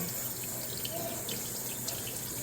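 Running tap water rinsing mussels and shrimp, a steady close splashing flow with faint clatter as the shellfish are handled under the stream.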